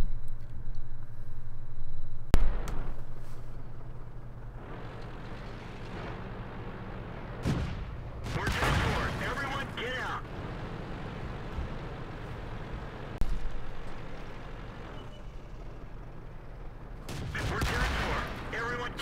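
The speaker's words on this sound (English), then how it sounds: "the first clip is just showing a couple of HE shells hitting the tank" High-explosive shells strike a tank in the World of Tanks video game, with several loud, sharp game impacts and booming blasts over a low rumbling engine drone, while a voice talks throughout.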